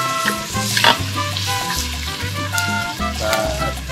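Onions sizzle and crackle in a hot pan in a steady, close frying hiss, partly masked by loud background music with a thumping bass.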